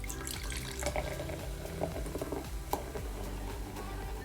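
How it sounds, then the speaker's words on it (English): Modelo beer poured into a cup, a soft liquid splash and fizz with small irregular clinks and pours, fairly quiet and close. "I will be using a Modelo beer, and I'm going to start by pouring some of that in the cup."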